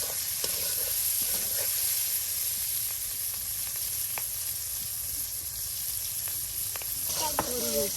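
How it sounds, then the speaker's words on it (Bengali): Pieces of fish fry in oil with a continuous, even sizzle and hiss, punctuated by faint occasional pops and clicks, and a brief soft voice near the end. "তেলের সাথে মাছের টুকরাগুলি ভাজা নেওয়া হচ্ছে"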